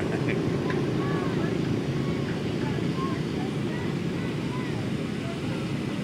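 Motor patrol motorcycles ride in a Flying V formation during a millennium day street parade and give a continuous, dense buzzing drone. The sound is loud and steady, and faint higher whines sit on top of it.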